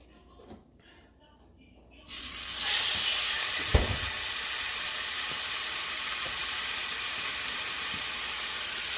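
Fish pieces searing in a skillet start with a sudden loud, steady sizzle and hiss after a quiet moment. The sizzle keeps going with a few small pops and clinks, and no one talks over it.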